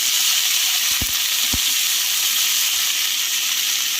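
Nigella seeds sizzle in hot oil for tempering, a steady, bright crackling hiss throughout, broken by a couple of soft knocks early on, with no voices.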